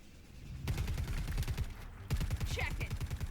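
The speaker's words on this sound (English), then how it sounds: "He's taken tons of gunfire" Rapid automatic gunfire from the video game Predator: Hunting Grounds rattles in dense, fast bursts, pausing briefly near the middle before resuming, loud and close throughout.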